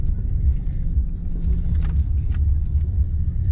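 Pickup truck driving with a field-dressed doe in the back, its steady low engine and road rumble filling the cab, with occasional light rattles and clinks from inside.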